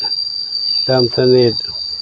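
Continuous high cricket chirring at a rural temple in Chae Hom, Lampang, Thailand, persists in the background while a person speaks briefly over it in the middle.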